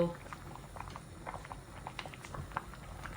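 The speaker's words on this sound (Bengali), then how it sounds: "বলক এসে গেছে এই মটর কারির মধ্যে, দেখুন।" Pea curry simmers in a pot at a low rolling boil, giving a faint, steady bubbling and popping close by, with no talk over it.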